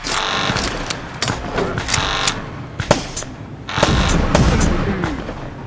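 Bursts of rapid gunfire crack out in quick volleys, broken by heavy booming explosions, loud and close, with brief gaps between the barrages.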